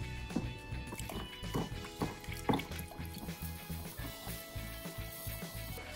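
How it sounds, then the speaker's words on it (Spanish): Caustic soda is poured slowly into water and stirred to make homemade basil and aloe vera soap from used oil. Light taps and liquid trickles repeat unevenly over a steady low background, with no voice. "Vamos a ir añadiendo la sosa al agua despacito, no se vuelca bruscamente, muy despacito"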